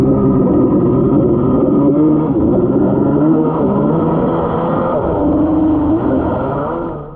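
A Kawasaki X2 watercraft engine fitted with a CDK2 carburetor, running slightly lean, roars loudly and continuously with a rough rumbling drone and small pitch shifts, fading a little at the end.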